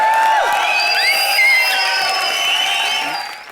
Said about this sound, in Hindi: उसके लिए सीटियां और तालियां बजनी चाहिए।